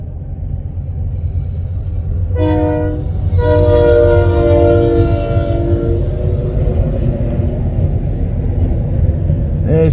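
An eastbound freight train pulls into Mo Valley, rumbling loudly and steadily throughout, with a prolonged multi-tone horn blast sounding from about the two-second mark until roughly six seconds.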